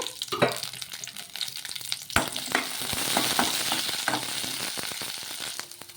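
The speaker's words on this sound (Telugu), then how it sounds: "పచ్చిమిర్చి వేసుకోవాలి వేసుకొని అందులోకి కొంచెం నూనె అయితే వేసుకోవాలి వేసుకొని మగ్గించుకుందాం" Green chillies sauté in a little oil in a kadai with a steady crackling sizzle, broken by sharp scrapes and knocks of a spoon stirring against the pan; close and fairly loud, with no voices.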